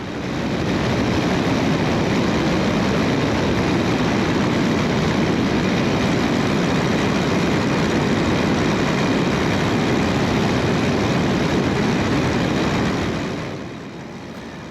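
An FX3 RC airplane near a runway gives a loud, continuous propeller and engine drone with a broad buzzing roar that holds steady for most of the stretch, then drops off abruptly near the end.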